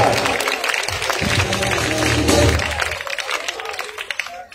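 Applause breaks out at a welfare charity's grand event as an award recipient is called up, clapping swelling under a voice and then thinning out toward the end.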